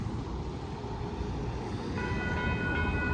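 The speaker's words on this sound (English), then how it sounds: "I think this is the train we've been waiting for." Distant rumble of an approaching Union Pacific train, growing slightly louder, with faint high tonal squeals or horn tones creeping in near the end.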